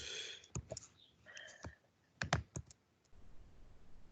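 Clicks and taps from a computer keyboard come in a few quick clusters with short pauses between, close and fairly quiet, with no voices.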